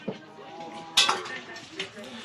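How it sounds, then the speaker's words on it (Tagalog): Cooking pots and dishes clatter while being washed, a few sharp metallic clinks and knocks over a low background, with faint voices nearby. "hugasi yun ng kaldero, Queen."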